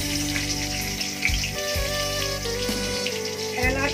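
Dried red chillies and bay leaf crackle in hot oil while whole spices are added for tempering, giving a steady close sizzle with sputtering pops over a low hum of background sound.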